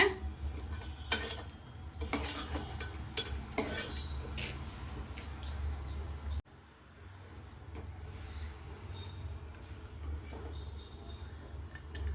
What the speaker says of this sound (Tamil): போட்டு நல்லா ஒரு பெரட்டலாங்க